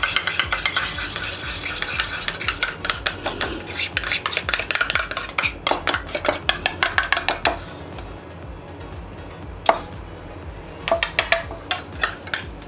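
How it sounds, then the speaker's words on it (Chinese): Crab roe is worked around a bowl by hand, giving close, rhythmic scraping and clinking strokes in quick repeated bursts that thin out to scattered taps near the end. "我哋首先將個蟹膏咧撈咗一個非常之混合嘅情況啊"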